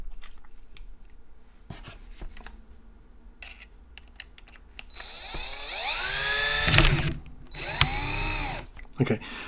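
A variable-clutch power driver tightens screws into the housing of a Matco MT2120 3/8-inch air impact, giving short rising whirs in separate bursts with pauses and light clicks between them, close and fairly loud.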